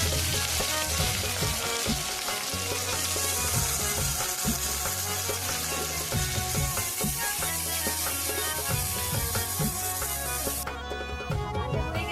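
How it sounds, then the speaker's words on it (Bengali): Prawns frying steadily in hot oil, a dense continuous sizzle with crackling and spitting that holds throughout, close and loud, with no voices. "আমি এবার মাছগুলো ভেজে নিচ্ছি"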